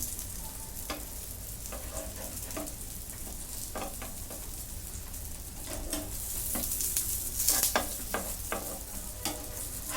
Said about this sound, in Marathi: कमी तेलातच मी बारीक गॅसवरती भाजून घेते दोन्ही साईडने